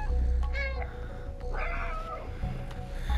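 A cat meows inside the video game Stray: a short, clear meow partway through that rises and falls, with a second, softer cry afterward, set over a low, steady game soundtrack.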